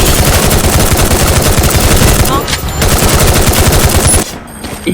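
Rapid automatic gunfire from the Free Fire video game rattles loud and continuous, dense bursts that pause briefly midway and stop just before the end, with no talk over it.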